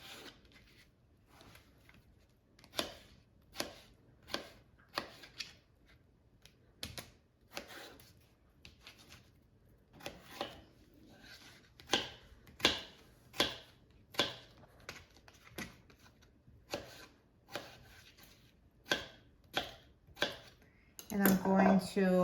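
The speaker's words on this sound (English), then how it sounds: "now I'm going to cut this potato into pieces. Just cutting it into small cubes." A knife chops potatoes into small cubes on a cutting board, sharp taps landing one by one at an irregular pace, close and crisp against a quiet kitchen.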